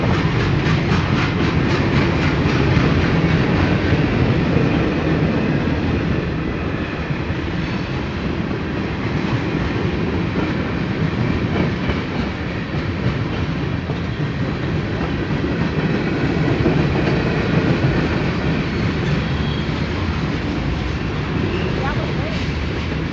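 A train rolls slowly past a railroad crossing with a long, steady rumble and rhythmic wheel clatter, sustained at close range for the whole stretch, with voices talking over it.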